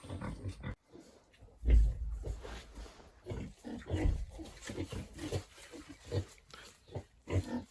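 Pigs, a sow and a boar, grunt and snuffle repeatedly at close range in short irregular bursts, with a few louder snorts mixed in.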